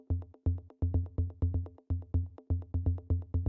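Processed bass line built from Moog DFAM drum synthesizer samples: a steady, loud, punchy sequence of repeated deep bass hits with bright harmonic overtones, in a driving rhythmic pattern with no talk.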